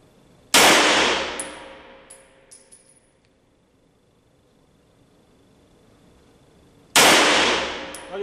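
Two sharp 9 mm shots from a Steyr L9 A2-MF pistol at a 20-meter range, each a loud crack with a ringing decay, spaced about six seconds apart, with faint metallic tinkles after the first.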